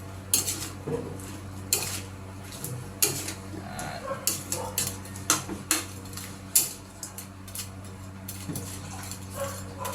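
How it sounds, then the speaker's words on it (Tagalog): Shrimp being stir-fried in a pan with calamansi juice, a metal utensil scraping and clanking against the pan in irregular bursts over a low background hum. "Tapos yun, stir na. Stir fry."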